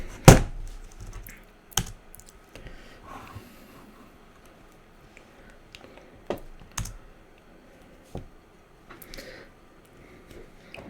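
Keys clack on a single computer keyboard during an operating system install, sparse irregular taps and a few sharper strikes with pauses between them, close and fairly quiet.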